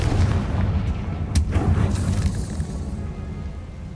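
A Confringo fire spell cast in Hogwarts Legacy on PlayStation 5, one sharp blast with a short rumbling tail over a constant low game background.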